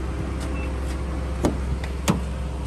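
Someone climbing into a Nissan Armada SUV, with steady engine or cabin rumble throughout, a sharp door thunk near the middle and another clunk shortly after, as the car door shuts and the power windows move.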